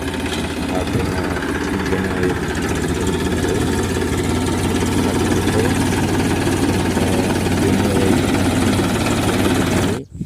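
Tractor engine running in a farm field, a loud, close, rough chugging that stays steady throughout, with faint voices underneath before it cuts out at the end.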